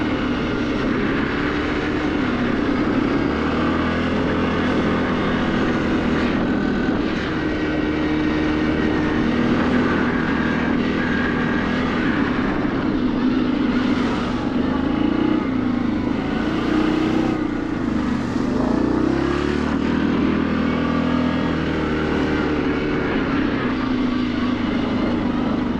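Yamaha Grizzly 700 ATV engine droning steadily while riding, a loud, continuous motor note with shifting revs and rough mechanical rumble throughout, no voices.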